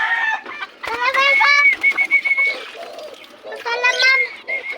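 Chickens at feeding time give close, loud clucks and rising squawking calls in short bursts, with a voice calling to them now and then.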